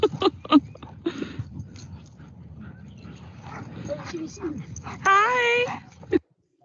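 A dog yips a few times, then lets out a long, wavering whimper near the end, with murmuring voices underneath.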